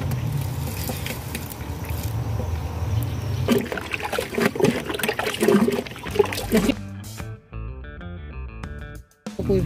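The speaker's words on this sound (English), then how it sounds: "It drains slowly into the reactor." Cow dung slurry trickles and sloshes as it drains slowly into a homemade biogas digester reactor, a steady liquid wash that shifts to lighter dribbling, with no talk over it.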